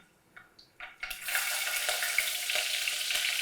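Curry leaves and green chilies hit hot oil for a rice bath, a few small clinks first, then a loud, steady sizzle that stays up close and continuous with no talking.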